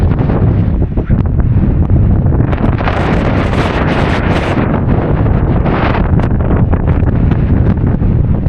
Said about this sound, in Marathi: भाई वारा